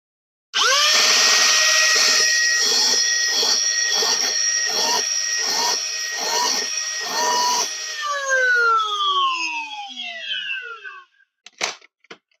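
A full-auto Nerf Stryfe foam dart blaster empties a Talon magazine in a fast buzzing burst of about eight pulsing shots over its whirring flywheel motors, which then spin down with a falling whine, followed by a couple of brief clicks.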